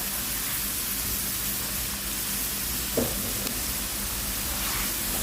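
Squid stir-fried with holy basil, kaffir lime leaves and chili hisses in a hot pan with a steady, even sizzle and a single brief clatter of stirring partway through, close and without speech.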